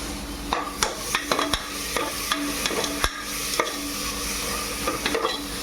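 Tomatoes being sautéed in a pan, with a steady soft sizzle broken by repeated sharp scrapes and taps of a spoon stirring them.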